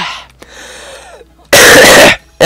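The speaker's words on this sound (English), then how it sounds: "sorry for the cough" A single loud, harsh cough bursts out close to the microphone after quieter game sounds, followed by a brief pause and the start of another.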